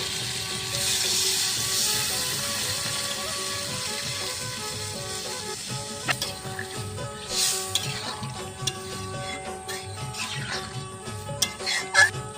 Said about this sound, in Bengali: এবার নারকেলের দুধটা দিয়ে দেবো